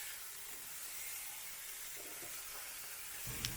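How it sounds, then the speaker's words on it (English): Thick boerkos bubbling and being stirred in a pot, a steady soft hiss and sizzle with faint scraping stirs and a small clink near the end. "You have to keep stirring, otherwise it's going to burn the bottom."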